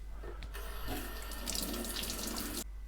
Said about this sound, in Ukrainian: треба просто змити проточною холодною водою